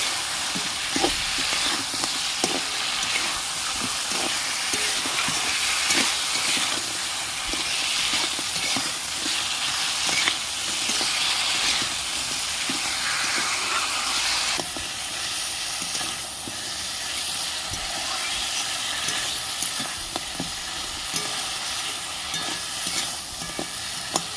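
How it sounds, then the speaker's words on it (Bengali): Fried crabs sautéed in oil in a pan, a loud, continuous sizzle and hiss with repeated scraping and stirring strokes, close up and without speech. "ভেজে রাখা কাঁকড়াগুলো দিয়ে দিচ্ছি কাঁকড়া দিয়ে একটু কষিয়ে নেবো"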